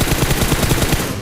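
Rapid automatic gunfire from PUBG Mobile, a loud, dense stream of shots filling the whole short burst at close range.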